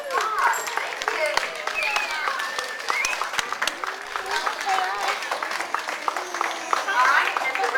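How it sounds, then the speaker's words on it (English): A school assembly crowd applauds third graders taking a bow, steady clapping filling the room at close range with children's voices and cheers mixed in throughout. "Let's give them a round of applause."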